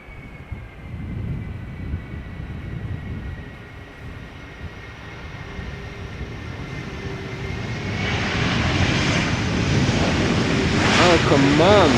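Cargolux Boeing 747 retro-livery jet landing at Schiphol Airport, its engines a distant low rumble and whine that grows steadily louder and nearer, with wind and people talking nearby.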